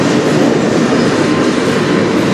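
A CN freight train passes close by on the Strathroy Sub in Sarnia, Ontario, a loud, continuous rumble and rolling wheel noise that fills the whole moment without a break.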